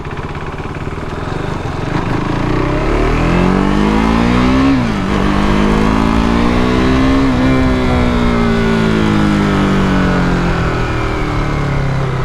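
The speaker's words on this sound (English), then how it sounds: "So I'm riding RC390." A 2015 KTM RC390 motorcycle is ridden hard, its engine revving up through the gears with rising and falling pitch, steady and close, with no talking over it.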